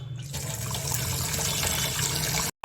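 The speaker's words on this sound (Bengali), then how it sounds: "এই যে দেখো ফেনা ফেনা হচ্ছে, এটা আমি ধুয়ে পরিষ্কার করে নিব।" Red lentils for a tomato-fried masoor dal are rinsed in water, a steady close splashing and swishing that runs continuously for a couple of seconds before cutting off.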